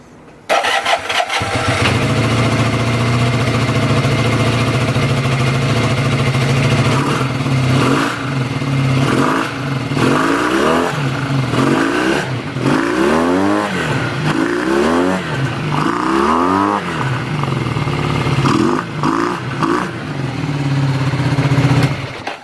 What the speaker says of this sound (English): And now let's listen to the bike.